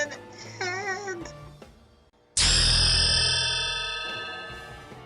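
An EverQuest level-60 level-up chime rings out loud and bright at once, a sustained, shimmering ding that slowly fades, preceded by softer game sounds and a faint cat-like cry.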